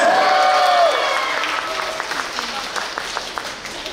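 Audience applause at a GWSN fan showcase, a dense clapping crowd that fades as a voice speaks over it at the start.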